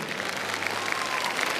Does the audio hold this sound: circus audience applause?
yes